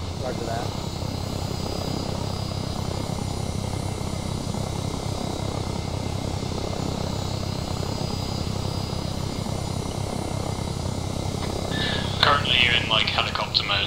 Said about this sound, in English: You're in like helicopter mode, so you can increase throttle and take off.